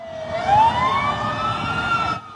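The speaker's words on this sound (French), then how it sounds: "avant le bruit des sirènes." Emergency sirens wailing in a Lebanese neighborhood after bombing, a single rising, sustained tonal wail that stays loud and steady for about two seconds before cutting off.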